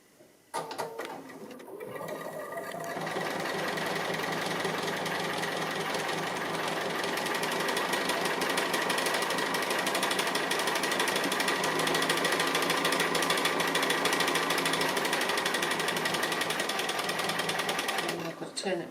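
Domestic sewing machine stitching free-motion applique on batik fabric, feed dogs lowered and a free-motion foot fitted: a steady, loud mechanical whirr running almost continuously for the whole stretch after a brief start.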